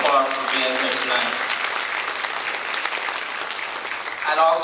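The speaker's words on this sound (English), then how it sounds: "Let's give him a round of applause for being here tonight" Applause for a guest at a Columbus Urban League graduation ceremony held in a church, a sustained round of clapping filling the room, with a speaker's voice briefly audible at the start and end.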